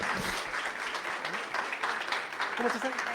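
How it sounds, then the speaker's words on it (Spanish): An audience applauds a female manager of a criminality observatory as she is welcomed at a closing event on violence against women. The dense clapping is steady and sustained throughout, and a speaker's voice can be heard faintly over it. "Un fuerte aplauso para ella, por favor."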